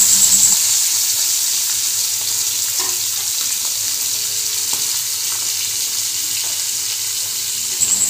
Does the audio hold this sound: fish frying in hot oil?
yes